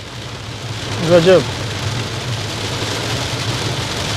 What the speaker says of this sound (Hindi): इधर तो और भी तेज बारिश होने लगी